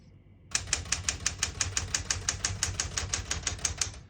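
Keys strike rapidly on a 1970 Smith-Corona Classic 10 portable typewriter, about eighteen crisp, evenly spaced clacks in a quick steady rhythm, close and alone with no talk.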